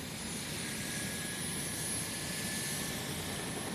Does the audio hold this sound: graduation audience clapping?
no